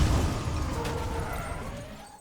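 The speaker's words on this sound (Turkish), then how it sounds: "Kaza yaptık." Car crash in the Need for Speed racing game, a loud burst of impact at the start that decays into a rumbling, fading tail under steady engine and road noise.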